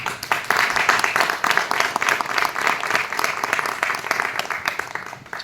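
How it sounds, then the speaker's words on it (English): An audience at a Nordic-Africa business forum claps warmly and steadily, a thick, even wash of hands that holds at the same loudness throughout. "Please give her a round of applause."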